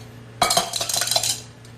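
Ice and a lemon-agave cocktail rattle and clink inside glassware as it is mixed, a quick burst of bright chattering knocks lasting about a second, close and clear with no talk.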